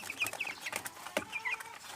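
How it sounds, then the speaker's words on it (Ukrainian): Hens and roosters cluck in a poultry yard on a small homestead, a steady run of overlapping short clucks and squawks, close and fairly faint, with no voices. "На перший погляд е, є більше курочок, ніж півників."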